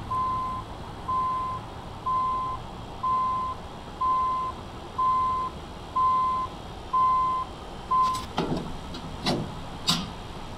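Reversing beeps from a Mercedes-Benz Actros truck in Euro Truck Simulator 2: a steady run of about nine evenly spaced electronic beeps, clear and alone, then a few sharp clicks as they stop.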